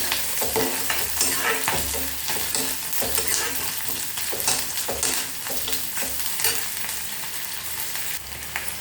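Onions sauté in a pan for an idli and dosa tomato side dish, a continuous close sizzle with frequent stirring scrapes and clinks of a spatula throughout, no voices.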